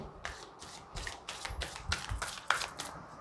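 Chakra Wisdom oracle cards being shuffled by hand, a quiet series of soft riffling bursts and taps in an irregular rhythm, close and faint with no talk.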